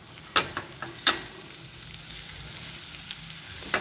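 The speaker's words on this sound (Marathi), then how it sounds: "थोडंसं आपण तेल सोडतोय आणि पुन्हा एकदा तेल सोडून ही भाजी परतून घ्यायची आपल्याला." Coriander leaf vegetable sautés in oil with a soft, steady sizzle broken by several sharp scrapes and taps of a spatula against the pan, close by and without voices.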